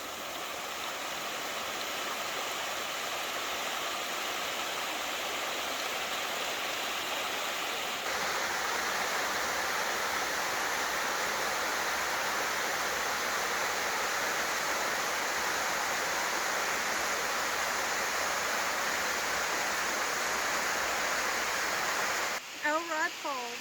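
Steady broadband rush of Elrod Falls in Tennessee pouring into a deep swimming-hole pool, continuous and close, filling the whole stretch with a brief higher splash or chirp near the end.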